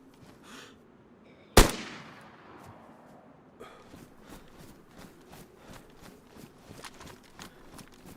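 A single loud gunshot rings out in the survival game DayZ, with a long echoing decay, followed by quieter rustling and faint footstep-like ticks.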